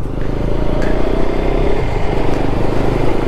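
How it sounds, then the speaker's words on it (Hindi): A motorcycle engine misfires while riding at a steady constant speed, a loud continuous drone with an uneven, stuttering pulse running through it, close to the rider. "बस नॉर्मल एक कॉन्स्टेंट स्पीड में बाइक चल रहा है"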